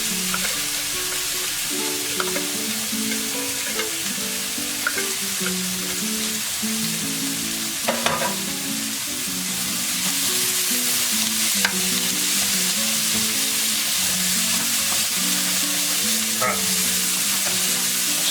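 Tiny canned shrimp fry for fried rice in an overfilled pan, a bright continuous sizzle with occasional stirring clicks, close and steady with no talk.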